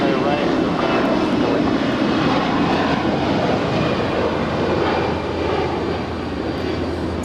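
An Alaska Airlines jet departing Los Angeles for Portland roars with a loud, steady, broadband engine rumble that holds for several seconds and eases slightly near the end.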